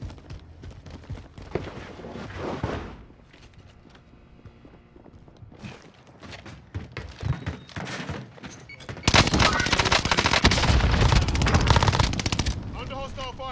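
Gunfire crackles during a hostile firefight in a shooter video game, with bursts scattered through the first part and then a loud sustained barrage near the end, under occasional voices.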